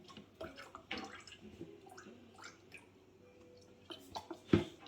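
Liquid pours into a Jamaican bread pudding mix with soft splashes, drips and wet squishing, quiet and close, ending in a louder splash.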